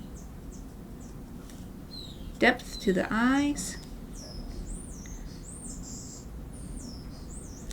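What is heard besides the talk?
birds calling outside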